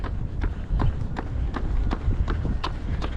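Quick, regular footfalls of someone running outside, a steady rhythm of soft thuds over a constant low rumble of wind.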